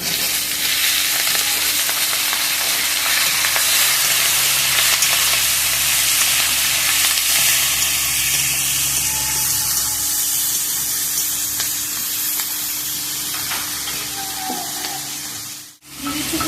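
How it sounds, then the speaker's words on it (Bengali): Cumin, dried chilli, bay leaf and whole onion fry in hot oil for a chicken posto dish, giving a loud, steady, close sizzle that runs unbroken and dips briefly near the end. "দিয়ে দিচ্ছি ফোড়ন জিরে শুকনো লঙ্কা তেজপাতা সম্পূর্ণ পেঁয়াজটা আমি দিয়ে"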